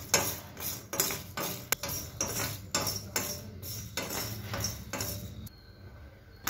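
Garlic cloves frying in their skins pop in sharp, irregular cracks, some louder than others, over a soft sizzling background, close up and without talk.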